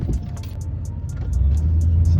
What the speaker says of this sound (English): It's just an old plow and an old truck,